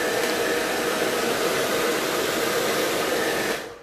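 A hair dryer blows over varnished wooden MDF decoupage, a loud, steady close whoosh of air running unbroken before cutting off near the end.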